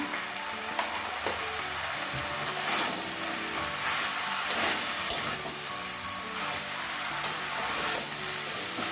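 Bottle gourd sautés with spices in a hot pan, giving a steady sizzle and fry hiss with occasional soft clicks from stirring.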